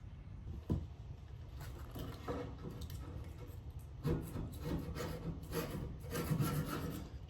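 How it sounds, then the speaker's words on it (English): A razor blade scrapes old gunk from around the opening of a port fuel tank on a Silverton 40DC boat, a faint, close, continuous rasping with a few sharper scratches. "I'm gonna just take this razor blade right here and clean up all this surrounding area"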